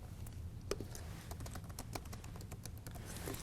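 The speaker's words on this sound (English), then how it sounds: "typing App Studio into the search bar" Keys clatter on a computer keyboard as a search term is entered into a search bar, a quiet run of light, quick taps in an uneven rhythm with no talking.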